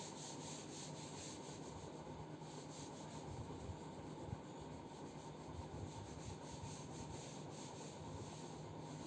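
Steady scraping rub across a classroom board being wiped clean of written equations, continuous and fairly close, with faint room hum and no talking.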